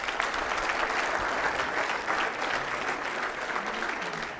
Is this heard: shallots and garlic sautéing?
no